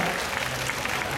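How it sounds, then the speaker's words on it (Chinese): An audience at a stage event claps steadily, a dense, even wash of applause from a crowd heard up close throughout. "给个掌声给自己好不好？"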